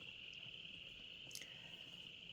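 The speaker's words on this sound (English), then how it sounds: "I'm not sure if you can actually hear the frogs, and the rain is softly falling." Frogs calling outdoors during soft rain, a steady high, continuous trilling chorus heard faintly from a distance, with one brief brighter chirp partway through and no talking.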